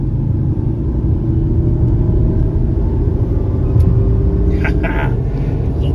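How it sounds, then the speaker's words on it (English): A 2009 Volkswagen Jetta SE Sport with a 5-speed manual runs in third gear after a downshift, its engine a steady, close, low rumble inside the cabin with faint tire and road noise. "Okay, down to third gear again."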